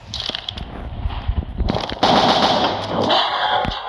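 Rapid automatic gunfire crackles in the Roblox game Area 51, with bursts of shots building into a denser stretch of firing, sharp and close with no talk.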